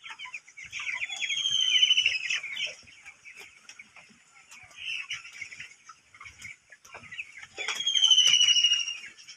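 Farm chickens cluck and squawk in bursts in a fermentation-system poultry house beside a pond, with the calls rising and fading amid scattered small clicks and rustles, no talking.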